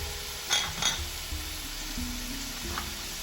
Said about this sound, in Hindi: तोरी जो 1 पाउंड मैंने ली थी ये आपने डाल देनी है। इसे हिला लें थोड़ी देर।